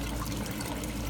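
Water running steadily through a wet-dry trickle filter on a 390-gallon aquarium, a constant close splashing trickle at even volume with no voices.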